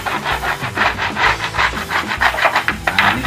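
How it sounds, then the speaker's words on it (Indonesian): Bamboo is rubbed over an aluminium calligraphy sheet in repeated back-and-forth strokes, giving a steady rhythmic scraping and rasping heard up close with no voices. "Setelah selesai sampean luruskan, lalu sampean gosok. Sampean gosok seperti ini"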